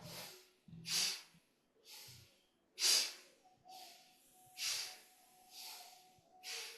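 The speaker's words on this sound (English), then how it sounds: "Remember, inhale up, exhale down." Deep yoga breathing, with audible inhales and exhales repeating at a slow, steady rhythm, close and breathy, with several soft gaps between breaths.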